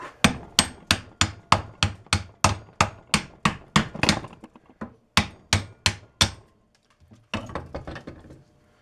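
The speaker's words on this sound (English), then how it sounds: "Just have to use the hammer." Repeated sharp metallic hammer blows on a stuck, rusty brake caliper of a 2007 Chevy pickup, in quick, steady succession, a short pause, then more strikes, fading to lighter taps at the end.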